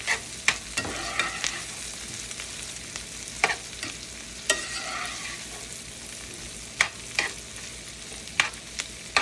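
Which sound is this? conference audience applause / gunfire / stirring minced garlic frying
stirring minced garlic frying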